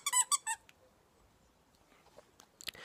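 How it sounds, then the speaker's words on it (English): A dog chews a squeaky toy somewhere in the background, producing a quick burst of three high, sharp squeaks, then near-quiet with faint handling noise and a few clicks at the end. "excuse if you hear the squeaking"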